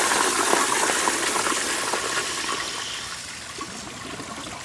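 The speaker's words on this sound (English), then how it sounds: "Flush it again." A 1992 Kohler Kingston Water Guard toilet flushes with a loud rushing gush that slowly eases into a steadier swirling drain, close up and without talk.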